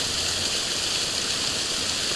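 Floodwater from a village river rushes over a damaged road, a loud and steady broadband roar of flowing water that continues without a break, close by.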